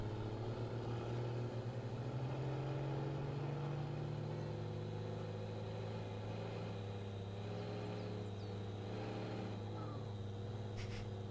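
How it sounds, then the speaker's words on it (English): A truck engine hums steadily in the MudRunner video game, with a faint, high, thin turbo whistle rising above the low, even drone. The level is quiet throughout. "little turbo sound"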